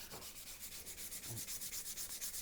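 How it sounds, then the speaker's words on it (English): Wet sanding of a plastic dash fascia from a Suzuki Jimny, water on the surface, giving a steady rhythmic rasping rub repeated in quick strokes, close and fairly quiet. "just put a bit of water on there"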